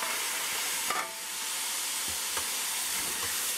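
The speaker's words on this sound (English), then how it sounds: "So I'm gonna just add my tomatoes in." Tomatoes go into a pan of frying saltfish, bringing a loud, steady sizzle and hiss with a few brief stirring scrapes, and no voices.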